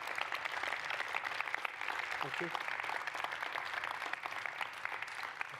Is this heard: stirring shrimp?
no